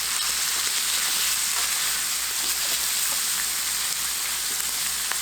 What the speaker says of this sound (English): I stir it around and I put some of the hot stuff up on the top of it